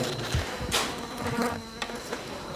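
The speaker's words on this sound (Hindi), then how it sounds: "ये मक्खी की आवाज़ है" Flies buzz in short, close passes against a faint background hum, with a couple of light knocks in between.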